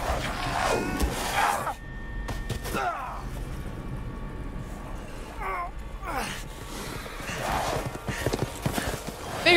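Horses gallop in Resident Evil 8, rhythmic hoofbeats coming and going with occasional whinnies, mixed with other game sounds and some voices.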